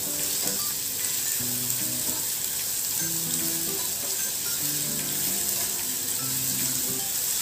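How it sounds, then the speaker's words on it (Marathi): Ginger, garlic and green chili paste frying in hot oil gives a steady, even sizzle that runs the whole time, with faint clinks and shifting sounds from the pan and no voices. "आता आपण त्यामध्ये आलं, लसूण व हिरवी मिरचीची भरड घालून घेणार आहोत व ती सुद्धा तेलामध्ये अगदी छान परतून घेणार आहोत"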